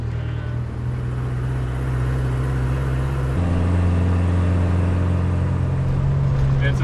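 A car engine drones steadily while driving at high altitude across the Himalaya without first gear, a low continuous hum that steps to a different pitch partway through.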